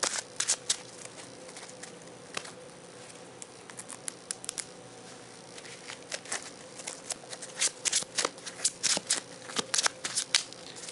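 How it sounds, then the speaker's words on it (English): A deck of trading cards is shuffled over and over at close range, crisp riffling snaps and ruffles coming in uneven bursts that grow denser and louder toward the end, with no talking. "I'm taking so long to shuffle this is because I want this to be shuffled really, really well"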